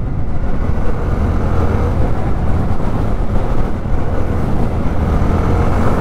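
A steady low rumble comes from a 2024 Jawa 42 motorcycle's engine while riding. Wind noise buffets it throughout, and no one speaks.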